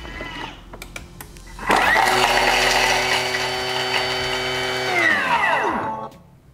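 A Thermomix chopping a garlic clove at speed 9 for pesto: the motor whirs up abruptly to a loud, steady high-pitched whine, holds for about three seconds, then winds down as the blades slow to a stop.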